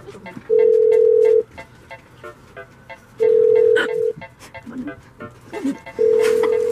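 A phone call to a Burger King rings out as three long, steady ringback tones with even pauses between them, and faint background noise fills the gaps.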